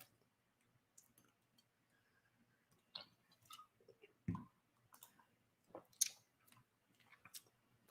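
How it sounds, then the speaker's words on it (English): A computer mouse clicks sparsely and faintly during casual browsing, with scattered soft clicks and small handling noises over near silence. "I'm just clicking around."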